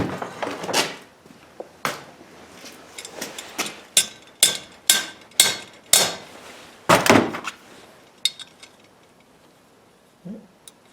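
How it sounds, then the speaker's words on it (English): A series of sharp metallic taps as a hammer strikes a stripped muffler bolt on a small engine trimmer, roughly a dozen strikes in uneven rhythm, some in quick pairs, close by with faint background noise between hits. "Let me get a hammer, see if I can tap on it."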